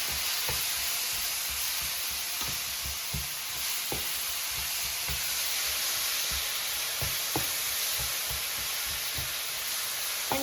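Spiced mango pieces sizzle steadily in a hot pan while being stirred, with a constant frying hiss and scattered soft scrapes and taps from the utensil.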